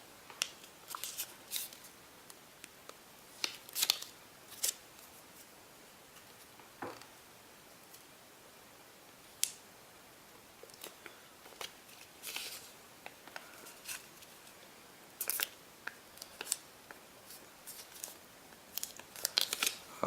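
Origami paper for a tessellation being folded and creased by hand, with sharp crinkles and crisp ticks at irregular intervals, close and quiet with no talk.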